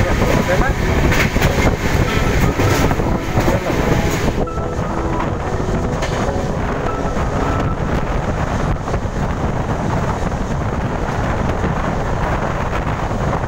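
The Gujarat Sampark Kranti Express on the Vadodara to Ratlam run rolls through a station at speed, heard from on board as a loud, steady rumble with rail clatter and strong wind buffeting throughout.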